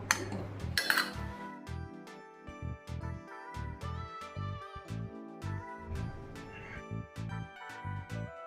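A metal lid clinks against a pot of dal in a home kitchen, a sharp clatter at the start followed by a regular series of light ringing taps and metallic knocks, fairly quiet and close.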